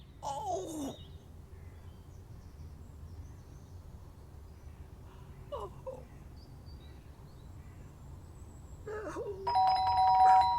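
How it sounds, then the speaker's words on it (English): A doorbell in the video game Fragments of Him chimes at the start and again near the end, each ring a bright two-tone sound over a low, steady background hum. "the doorbell had gone again"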